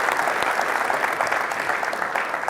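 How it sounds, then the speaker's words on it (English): Attendees at a coaching session on attacking play clap together in a sustained burst of applause, a thick, even patter of many hands close by and fairly loud. "how about a round of applause?"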